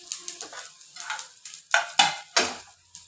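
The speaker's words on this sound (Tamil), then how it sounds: "இது கொஞ்சம் பெருங்காயம் போட்டு தாளிச்சு வச்சுக்கணும்." Mustard seeds and asafoetida being tempered in hot oil: a series of scraping and stirring strokes with crackling sizzle, the strokes growing sharper and louder toward the end, with no talking.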